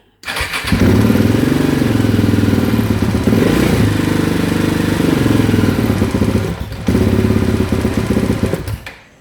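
A rally-prepared KTM 690 motorcycle running rough at constant throttle below 3000 RPM: the engine catches and holds a loud, close, uneven thrumming drone, dips briefly partway through, then shuts off abruptly.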